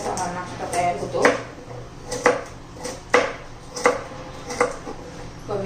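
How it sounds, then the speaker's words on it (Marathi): A knife chops carrots finely on a cutting board in a home kitchen, making a series of evenly spaced crisp taps about once a second, with a voice talking over the chopping. "बारीक गाजर चिरून घ्यायचे"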